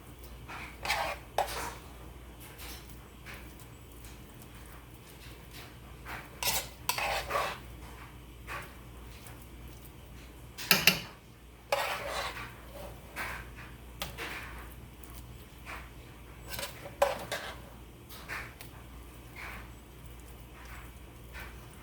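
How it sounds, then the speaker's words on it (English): Topping is spooned and spread over a homemade shepherd's pie, with scattered clinks and scrapes of a spoon against a dish, one sharp knock midway, and quiet gaps between. "Now I'm going to take these and I'm just going to spoon them on top and spread them out."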